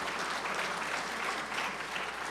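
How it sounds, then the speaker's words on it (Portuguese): A packed audience claps for the Ministério Público choir at an anniversary ceremony, a loud, even wash of applause sustained without pause for a couple of seconds. "Uma salva de palmas para o coral do Ministério Público"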